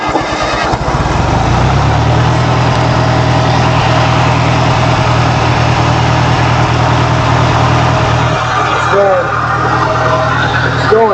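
A 1959 John Deere 1010 backhoe loader tractor with a stuck clutch cranks and catches within the first second, then runs loud and steady right up close, with a continuous rough drone to the end.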